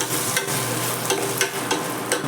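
Vegetables for a bean, brinjal and potato kara kuzhambu sauté in a hot pan. A steady loud sizzle runs throughout, broken by a few scraping stirs.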